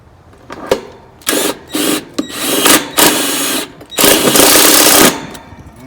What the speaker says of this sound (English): I'm gonna go ahead and put the screws in.